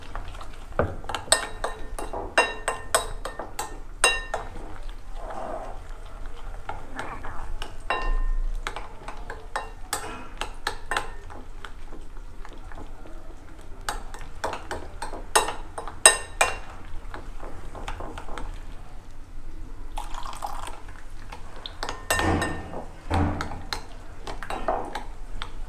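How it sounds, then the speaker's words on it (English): Metal spoon clinking and scraping against a pot while chicken soup with added cold water is stirred, a busy run of sharp clinks and taps at close range with no talking. "Add some cold water and stir it well."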